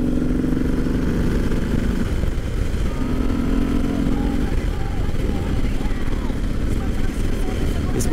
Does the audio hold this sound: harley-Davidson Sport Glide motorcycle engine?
yes